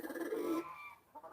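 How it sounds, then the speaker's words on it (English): A hen named Goldilocks, agitated inside a box, lets out a close, fairly loud run of clucks and squawks, then falls briefly quiet before a couple of short softer clucks. "We have a little chicken in the box. Hello, chicken. Oh, she's so angry."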